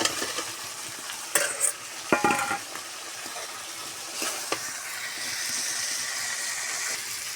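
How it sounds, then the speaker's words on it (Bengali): Meat dropped into a pan of sizzling spice masala and stir-fried, with loud scraping stirs and bursts of sizzle over a steady, close frying hiss; no voices. "মশলা কষানো শেষ, এবার আমি মাংসগুলো দিয়ে দিব।"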